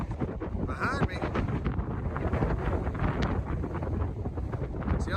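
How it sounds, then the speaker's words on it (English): Strong wind whips outdoors beside a pickup truck camper, stirring up dust, a loud continuous roaring buffet with a few sharper bursts through the five seconds. "It is crazy windy right now."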